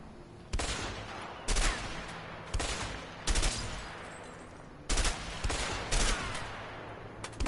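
Gunfire in the video game A Way Out comes as a string of sharp separate shots at irregular intervals, fairly loud over a faint background.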